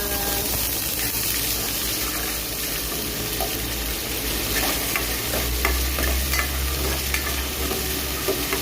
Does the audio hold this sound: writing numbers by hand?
no